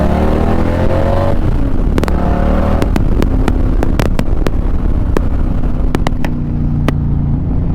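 Indian 112 cubic inch PowerPlus motorcycle with a Lloyd's Sawicki 2-in-1 exhaust and Lloyd's tune: a loud, deep engine note that revs up and settles, with sharp crackling pops from the exhaust scattered through, close and without talk.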